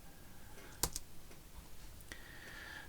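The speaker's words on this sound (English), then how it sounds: "So if you type in settings, helps if you spell it right" Typing on a computer keyboard, a few quiet key clicks with one sharper double tap, faint and close against a low background hiss.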